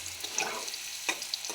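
Carrots fry in a pan over a high flame with a steady, close hiss, broken by a few faint clicks or spatters within a short moment.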